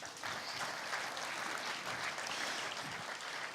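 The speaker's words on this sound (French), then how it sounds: "je vous prie de renouveler vos applaudissements" A conference audience applauds steadily and fairly evenly for several seconds after a talk, heard from within the room without any speech.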